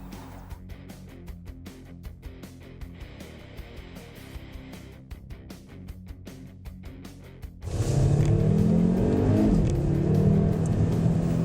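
An Audi RS Q3 with a 2.5 litre 5-cylinder turbo engine idles with a ticking rhythm, then roars loudly as it accelerates and revs up, with no voices.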